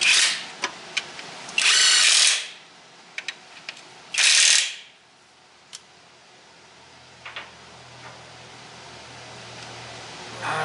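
Two loud bursts of a power tool whirring while tightening a bolt on a 2001 Mustang during rear main seal work, separated by scattered metallic clicks and ratcheting taps, then quiet with occasional small knocks.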